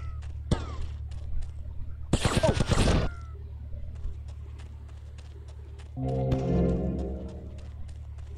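Gunfire in GTA Vice City Definitive Edition: a dense burst of shots around two to three seconds in, with a single crack earlier and a rattling spray of sound later, over a steady low game hum with no speech.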